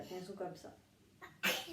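A single sharp sneeze bursts out near the end, loud and close, right after someone talks through a mat Pilates routine in a studio setting.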